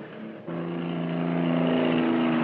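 Chevrolet cars from a 1966 Hell Drivers precision stunt driving rally, engines droning loud and steady with a rising rev after a brief dip, as if several cars run close together.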